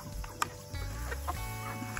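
Polish chickens in a homestead coop give soft clucks and short calls at low volume, with a faint background hum and one brief sharper note.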